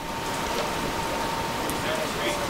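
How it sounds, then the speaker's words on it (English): Rain falls outside the open windows of a baseball broadcast booth, a steady, even hiss of drops on surfaces filling the whole moment. "And you can hear the rain in here from the broadcast booth."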